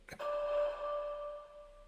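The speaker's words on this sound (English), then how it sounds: "How about like a bell hit?" A single bell hit sound effect: a sharp metallic strike followed by a clear ringing tone that fades slowly, heard alone.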